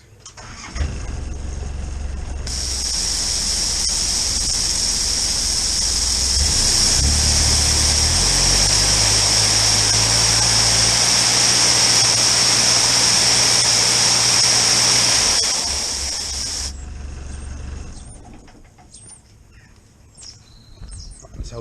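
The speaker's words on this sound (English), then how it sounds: "This is video 2, same ball jet on the 1/4 inch hose, but with a forward facing." A pressure washer fires through a forward-facing ball jet nozzle on a quarter-inch hose: a loud, steady hissing spray lasting about fourteen seconds over a droning engine, then the spray cuts off and the motor winds down.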